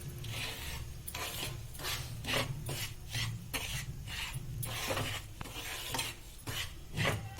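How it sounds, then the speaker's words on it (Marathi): Wheat flour is stirred and dry-roasted in a pan for ladoos, a steady scraping and rasping of a spoon against the metal pan in repeated strokes, close and fairly loud, with no voices. "आता आपण गव्हाचं पीठ तयार केलंय ते परतून घेऊया"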